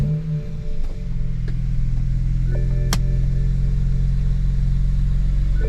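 A BMW 335i car engine starts and idles with a steady low rumble that swells slightly as it catches, holding an even, close drone throughout.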